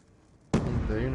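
A grenade blast in a multiplayer video game bursts in suddenly about halfway through, loud and broadband, after a quiet stretch of faint background chatter.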